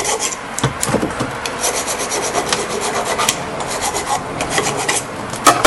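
Brake parts on a 2008 Toyota Highlander are scrubbed clean of rust with steady, loud, close rasping strokes that run continuously without talk.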